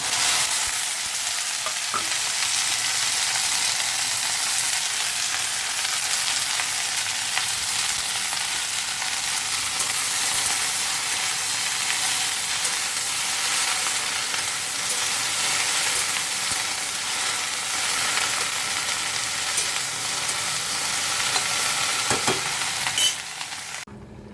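Okra frying in hot oil in a pan at home, giving a steady, loud, continuous sizzle with occasional stirring scrapes and no talking.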